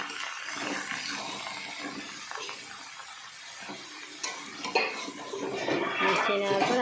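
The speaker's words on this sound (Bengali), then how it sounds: "এবারে কিন্তু কেটে রাখা লাউটা দিয়ে দিচ্ছি দিয়ে একটু ভালো করে মিশিয়ে নিচ্ছি" Chopped bottle gourd being stirred in a pot, with clinks and scrapes of a utensil against metal and a wet clatter, fairly close, with faint voices in the background.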